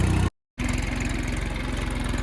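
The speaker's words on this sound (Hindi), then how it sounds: "बिना ड्राइवर के ट्रैक्टर चल रहा है" A tractor pulling a harrow through a field, running with no driver and its engine at a low, steady RPM. The close, pulsing diesel throb is cut by one brief dropout, then continues evenly.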